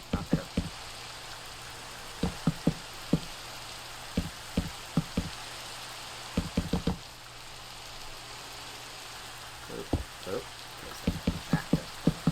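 Rain pattering in a creative-mode building video game, a steady soft hiss broken by bursts of sharper drip-like taps that come in irregular clusters, moderately quiet throughout with no voices.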